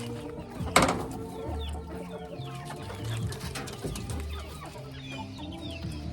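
Native country chickens cluck and call in a coop, with several birds sounding near and far, one loud squawk early on and steady clucking throughout.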